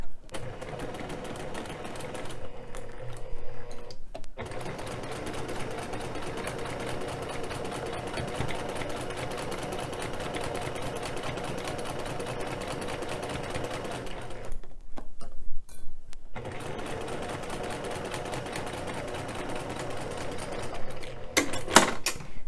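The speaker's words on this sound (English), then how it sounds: "Then you're just going to repeat that till you have all 6 blocks sewn together." Sewing machine stitching quilt blocks together, running in long steady bursts of rapid mechanical whirring with two short pauses, close and fairly loud with no voices.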